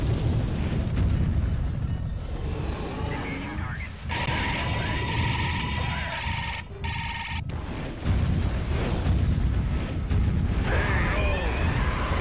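Godzilla's rage attack explosions in Godzilla: Destroy All Monsters Melee: repeated loud booms and crashing bursts, with mechanical roars and rumbling between the blasts.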